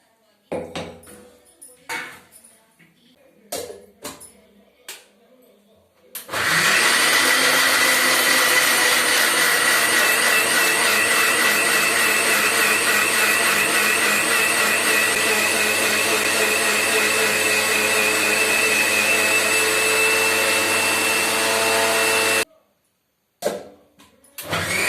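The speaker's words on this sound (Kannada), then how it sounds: "ಇವಾಗ ರುಬ್ಕೊಳ್ಳುವ." A mixer grinder jar whirs loudly and steadily for about sixteen seconds while grinding rajma masala. Light clinks of utensils come before it, and a brief restart follows after it stops.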